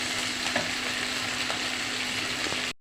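Ginger paste sizzling and frying in a hot pan, a steady loud crackling hiss lasting throughout with a few faint clinks before it cuts off abruptly at the end.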